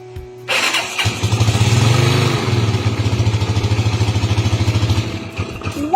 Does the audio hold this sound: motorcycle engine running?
yes